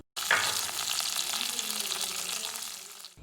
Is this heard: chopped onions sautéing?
yes